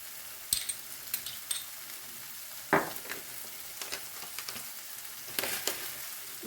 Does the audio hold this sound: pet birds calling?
no